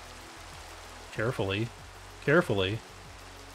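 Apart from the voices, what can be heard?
heavy rain in video game Minecraft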